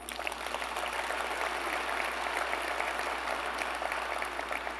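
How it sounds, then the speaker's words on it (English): An audience applauds Dr. Karen Molinar, school district leader, at a State of the City address; steady, dense clapping fills the whole stretch at an even level with no voices over it. "Give her a round of applause."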